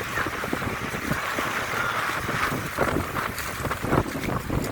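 Strong sea waves crash against a concrete shore at Paltic, Dingalan, Aurora, a rough continuous roar with surging bursts and heavy wind buffeting the microphone, no voices.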